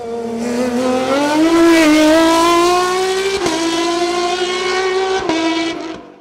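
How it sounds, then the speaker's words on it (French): An Osella PA20S CN3-class race car screams up a Chamrousse hill climb, its engine note loud and rising through the gears with brief dips at shifts, sustained close up before fading at the end. "Cédric Lansard a à nouveau prouvé que sa vénérable Osella PA20S en avait sous le capot"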